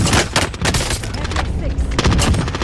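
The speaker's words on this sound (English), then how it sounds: "Hostile fire." Dense gunfire in the Warzone battle royale game, with rapid automatic bursts and heavy booming shots layered close and loud, almost without pause, over faint radio-style voice callouts.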